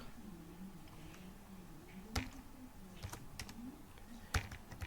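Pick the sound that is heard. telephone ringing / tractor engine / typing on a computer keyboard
typing on a computer keyboard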